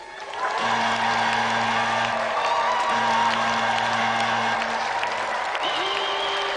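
A studio audience at the Gamesmaster video game TV show applauds steadily and loudly for about six seconds, with a sustained musical tone running beneath the clapping before it tapers off.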